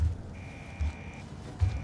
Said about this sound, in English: nothing here, just an alarm going on